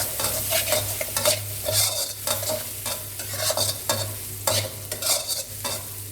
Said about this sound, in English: Heat 1 tablespoon of oil in a wok or frying pan over medium heat. Add a generous amount of crushed chili and garlic.